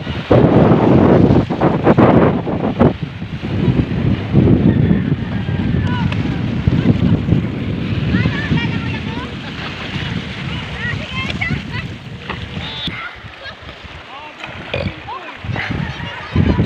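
Rough sea surf and strong wind along an island shoreline, a loud continuous wash of waves and buffeting wind noise across the mic, with occasional splashes and voices speaking over it.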